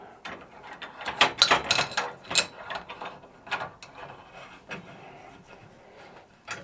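A steel clamp is tightened onto a steel welding fixture table, producing a close burst of metallic ratcheting clicks and clanks that taper into lighter scrapes.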